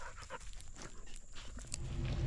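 A dog pants in quick, breathy bursts close by, moderately quiet against a low outdoor rumble, with no talking.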